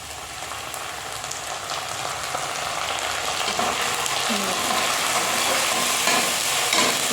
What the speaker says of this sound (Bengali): আমি এর মধ্যে আদা রসুন আর কাঁচা লঙ্কার যে পেস্টটা করেছি ওটা দিয়ে দেবো।